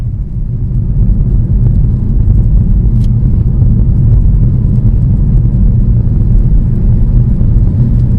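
A car drives along a quiet rural road in County Wicklow near Aughrim, heard from inside as a steady, loud, low rumble of engine and tyres with no talk.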